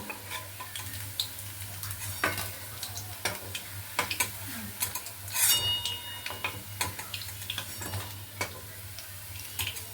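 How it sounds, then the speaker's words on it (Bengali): Hot oil sizzles continuously with crackles and pops as flower fritters fry, broken by scraping stirs and clinks of a utensil against the pan. "এইভাবে সবগুলি ভেজে নেব আবার ওগুলো ভেজে নিচ্ছি"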